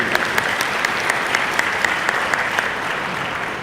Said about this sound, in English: Could I please have a round of applause for my amazing panel?